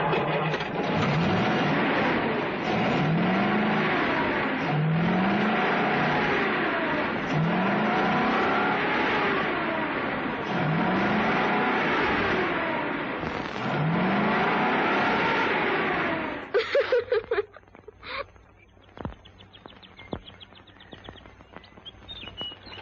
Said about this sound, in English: He can't fix that truck. Because I can tell just by the wheeze of it what's wrong.